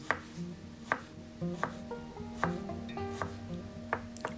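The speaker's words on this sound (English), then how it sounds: "Take 1 onion, cut it into small pieces." Knife on a cutting board chopping an onion into small pieces: sharp, spaced knocks about once a second, close and fairly quiet, with faint background hum and no talk.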